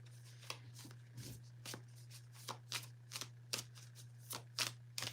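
Star Trek tarot cards shuffled by hand, a run of soft, crisp riffling bursts repeating about once every half second, fairly quiet and close with no talk.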